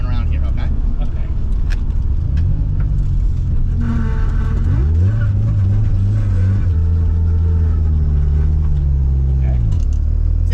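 A car driven at full throttle in third gear, its engine rising in a loud, close revving sweep through the middle of the run, with people talking in the cabin over the steady road rumble.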